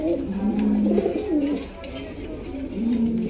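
A pair of giant homer pigeons gives soft, low, throaty coos, close by, in two rolling bursts separated by a short lull, with a faint voice underneath.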